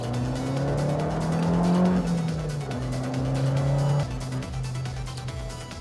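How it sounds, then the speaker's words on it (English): An Abarth 595 Competizione revs hard with a rising and falling engine note, turbo whistle and crackling exhaust pops, loud and close, with tire squeal hints as it drives through shifts. "Those little turbo whistles, exhaust crackling."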